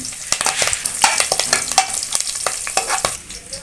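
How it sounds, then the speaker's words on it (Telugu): A sprig of curry leaves crackles in hot tempering oil with onion, a close, loud burst of sharp pops and spatters over a steady sizzle, with no voices. "ఒక కరివేపాకు రెమ్మను కూడా పోపులో అయితే యాడ్ చేసుకోవాలి"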